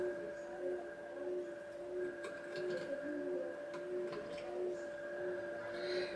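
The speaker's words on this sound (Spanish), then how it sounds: "La lavadora, como veis, está dando unas vueltas." A washing machine drum turns during a wash cycle, giving a quiet, steady motor hum with sustained tonal whine and faint intermittent clicks.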